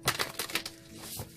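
Tarot cards are shuffled in a quick riffle, giving a series of crisp flicks and slaps that are close and moderately loud, followed by a softer rustle, with no talking.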